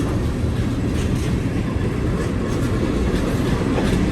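A freight train hauling loaded grain cars rolls steadily past close by, a continuous heavy rumble with rhythmic clickety-clack from the wheels and no voices.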